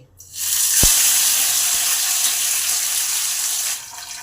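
Fish fries lightly in hot oil in a pan, producing a loud, steady broadband sizzle that starts abruptly, holds evenly for about three seconds and then drops off, with no talking over it.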